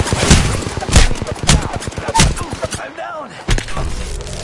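Loud gunfire in the video game Apex Legends, several sharp rapid bursts up close, followed by a brief lull and a whooshing game effect; game voice audio mixes in.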